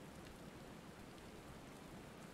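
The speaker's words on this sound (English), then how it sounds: "Oh, now it's raining." Rain falls in the Final Fantasy XIV game world, a soft, even hiss of steady rainfall, faint and unbroken throughout.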